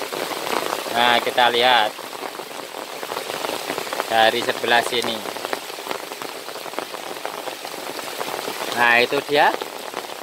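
Heavy rain pours onto a chili pepper garden as a steady, dense hiss of drops on leaves and soil, continuous and loud throughout, with someone speaking briefly at intervals over it.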